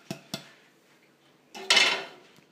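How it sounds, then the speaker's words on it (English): A large, heavy saucepan clanks twice in quick succession, then after a pause comes a longer metallic scrape and rattle, close by and fairly quiet. "we're going to get a large, heavy saucepan"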